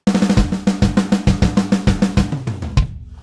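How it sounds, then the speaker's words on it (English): Programmed drum fill from Superior Drummer 2.0 using double-stroke rolls, with rapid doubled hits on snare and toms rolling evenly before a final crash-like hit that decays, loud and alone. "if we go back to our drum fill and you hear"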